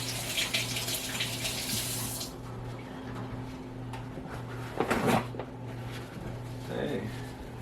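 Tap water runs in a sink while an apple is washed, with a steady splashing rush at first that then stops, followed by a few knocks and handling sounds, with no clear talk.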